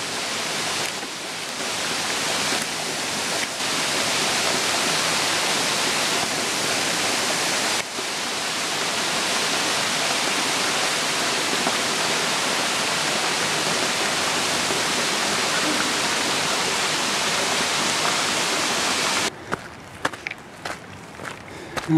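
Ribbon Falls in the Grand Canyon pours as a steady, broad rushing roar that is fairly close. Footsteps crunch briefly near the end.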